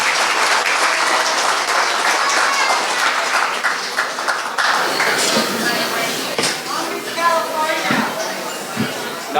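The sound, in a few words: audience applauding John Oakes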